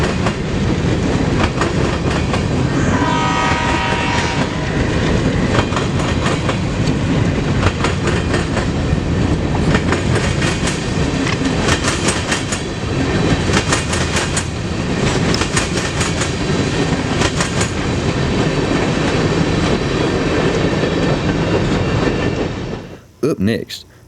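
A short grain freight train rumbles past close by in Decatur, Illinois, loud and continuous, with rhythmic clickety-clack of wheels and metallic squeals before it cuts off.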